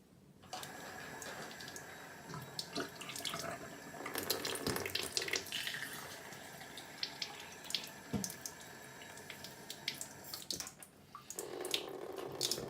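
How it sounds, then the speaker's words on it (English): Kangen water pouring from a tap into a sink, a steady splashing stream with irregular clinks and knocks, close and moderately quiet, shifting in tone near the end. "And this one we're going to use Kangen water."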